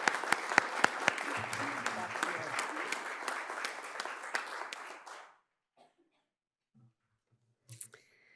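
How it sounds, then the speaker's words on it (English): Applause from the audience at a legal pro bono awards ceremony for honor roll participants, a dense burst of clapping lasting about five seconds that then cuts off into near silence with a few faint sounds. "If we can have a round of applause for the honor roll participants."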